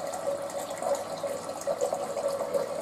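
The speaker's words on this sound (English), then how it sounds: "The water's going to go through the filter." Water runs through a Frigidaire Pure Source Ultra ULTRAWF refrigerator water filter into a glass container in a steady, moderately quiet stream, with a sustained humming tone and light splashing over it.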